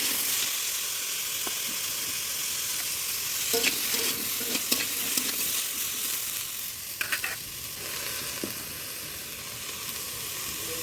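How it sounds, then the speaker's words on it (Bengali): Yardlong beans fry in a wok under a constant close sizzle, with scattered scraping knocks of a spatula stirring them, clustered around the middle and later part. "এই যে বরবটিগুলো এখন ভালো করে ভেজে নেব"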